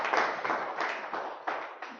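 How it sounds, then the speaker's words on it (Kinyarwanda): A church congregation claps for God in a quick, uneven burst of many hands, sounding close and fairly loud throughout. "ushatse wakomera Imana amashyi."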